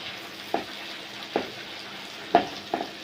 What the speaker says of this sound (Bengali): তো আদা রসুনের কাঁচা গন্ধটা না যাওয়া পর্যন্ত এগুলো ভালো করে একটু ভেজে নেব।